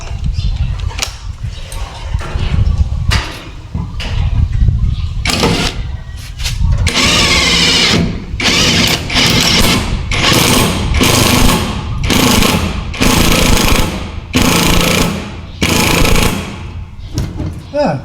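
Power tool driving self-tapping screws during a vehicle repair, heard as a series of loud, close bursts of whirring and hammering of varying length separated by short pauses.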